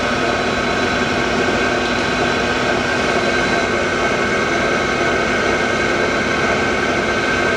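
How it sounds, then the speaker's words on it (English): Brown & Sharpe 1024 universal cylindrical grinder running a full automatic plunge cycle, a dense, constant broadband hum and hiss with no breaks, loud and close throughout. "the work slide moves backwards, the work head shuts off, and the in-feed hand wheel retracts"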